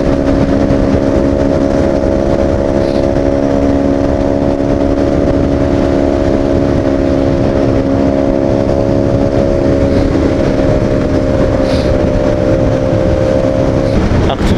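Royal Enfield Super Meteor 650 motorcycle, a 2023 650cc cruiser, accelerating on the road with a steady, strong engine drone and wind noise close by, the pitch climbing slightly near the end.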